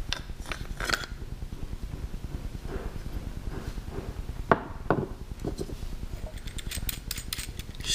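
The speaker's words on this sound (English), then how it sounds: "Just taking off this back nut." Wrenching the back nut off a Harley-Davidson Iron 883 Sportster during an ignition relocation job produces a steady run of close, fast ratchet clicks that continues through the whole stretch, with a few sharper metallic ticks mixed in.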